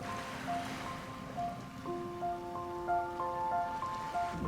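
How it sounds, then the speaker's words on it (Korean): Steady rushing wash of ocean surf at night on Jangbongdo island, with a thin droning tone of aircraft hovering above it. "파도 소리가 솔솔 들리고"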